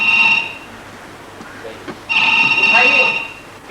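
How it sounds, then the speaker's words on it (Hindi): Telephone ringing with two bursts of a bright electronic ring, close and loud, separated by a short pause, with a voice briefly audible between the rings. "उठाइए, पीए साहब का ही फोन होगा।"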